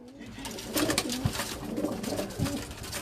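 A pigeon wearing red beads around its neck coos in low, rolling bursts nearby while someone talks over it and other rooftop pigeons murmur in the background.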